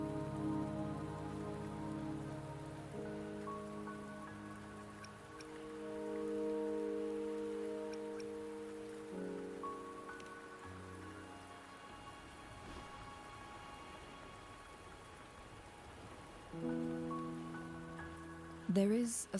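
Rainfall patters steadily in Wuthering Waves, a soft continuous wash under shifting sustained musical tones, with a few brief clicks near the end and no speech.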